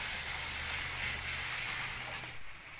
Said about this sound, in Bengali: সবগুলোকে একসঙ্গে একটু ভেজে নেব।